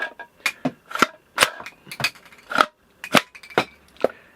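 A Kenner Real Ghostbusters toy dart gun, a hard-plastic dart launcher, gives a series of sharp clicks and snaps as it is cocked, locked and fired, several crisp close-up mechanical pops spread across the clip with no talking.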